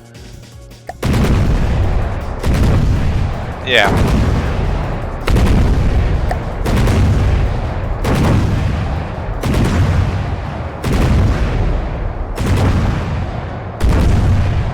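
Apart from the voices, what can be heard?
cannon firing repeatedly at target, From the Depths video game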